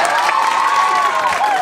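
An audience at a live music event in Praiano cheers and applauds loudly and continuously, with a dense crowd roar and whoops and no break in the noise.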